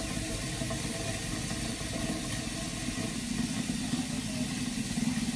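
Water pours steadily into a cooking pot for pasta, a continuous moderate hissing rush of tap water that holds even throughout without pauses.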